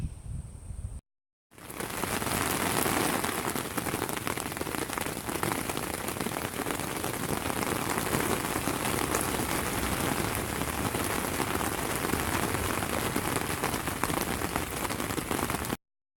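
Heavy storm rain drums hard and steady on a tent fabric in Marble Falls, Texas, a dense roaring patter that barely changes, cut by a brief silence near the start.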